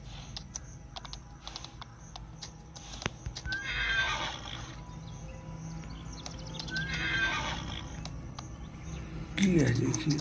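A white horse in the Farming Simulator 20 video game neighs twice in loud whinnies several seconds apart, amid hoof clip-clops and keyboard clicks, with someone speaking over it.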